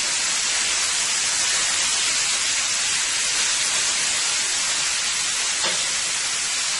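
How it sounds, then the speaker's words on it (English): Steak searing in a pan gives a loud, steady hiss of sizzling fat that runs unbroken for the whole stretch, with no talking over it. "my steak is cooking up nicely there"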